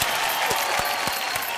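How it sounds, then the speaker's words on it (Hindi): An audience applauding a painting on a talk show, brief dense clapping with a few voices mixed in, fairly close and steady. "तालियां प्लीज"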